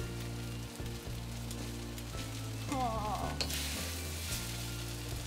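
Spicy instant noodles with chicken stir-frying in a pan, a steady close sizzle with scraping and stirring, background music playing throughout.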